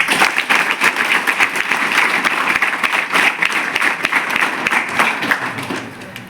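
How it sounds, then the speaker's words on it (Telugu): A room of students clap together when told to, a dense, loud burst of many hands that stays fairly even for several seconds and has sharp individual claps standing out within it. "ఒక్కసారిగా చప్పట్లు కొట్టండి."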